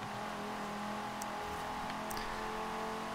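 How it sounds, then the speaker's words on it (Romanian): Exhaust note of a car in the Forza racing game, a steady engine drone with a few sharp crackles from the exhaust, moderately loud and with no talking. "E o chestie care îmi place la Forza, gen sunetul de la evacuare"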